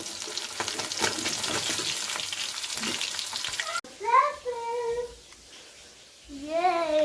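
Fish sizzles in a hot frying pan with a steady, dense crackle for about four seconds, then gives way to high, whiny voice-like sounds and quieter kitchen noise.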